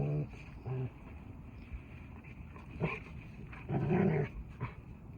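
A few short dog growls and whimpers come in brief bursts, fairly close, separated by quiet stretches.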